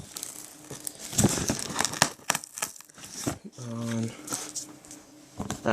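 Packing tape being peeled and torn off a Hoover Elite vacuum cleaner box, with crinkly ripping and crackling bursts close up and a brief spoken voice partway through.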